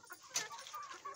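Aseel chickens cluck softly at close range in a few faint, brief calls against a quiet background.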